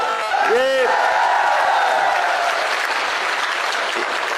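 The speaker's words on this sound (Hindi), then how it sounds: "आप सब लोग इस शाहपुरा के नौजवान विधायक के लिए जोरदार तालियां बजाओ।" A Congress party political rally crowd in Jaipur Rural applauding a young Shahpura legislator, a loud, continuous wash of clapping with a brief whoop near the start.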